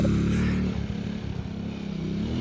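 Motorcycle engine idling close by at a wedding gathering in Mustang, a steady low rumble that shifts as the throttle eases and picks up, running throughout without talk.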